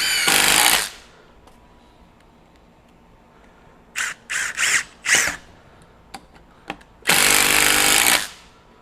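A Milwaukee 2953 Gen 4 M18 FUEL cordless impact driver drives small fasteners in short bursts of whirring and hammering, a long burst, then several quick ones, then another long run, with quiet gaps between.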